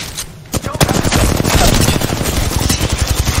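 Rapid automatic gunfire in the battle royale shooter Apex Legends, loud dense bursts of shots crackling almost continuously after a brief pause at the start.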